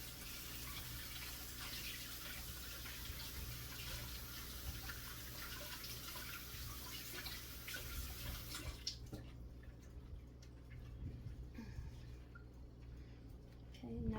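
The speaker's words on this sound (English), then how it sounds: "Wash my hand off." A kitchen tap runs in a steady, close stream while hands are rinsed off during scone baking, then shuts off about two-thirds of the way through, leaving quiet room noise.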